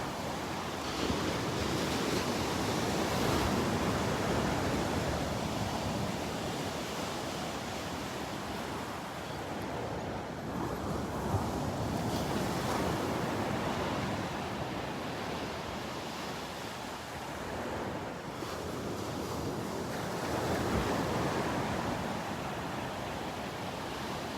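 Ocean surf rolls in at Delnor-Wiggins beach with steady, washing waves that swell and ease over a constant broadband roar, with some wind buffeting the microphone.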